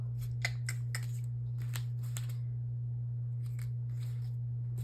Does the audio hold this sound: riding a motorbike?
no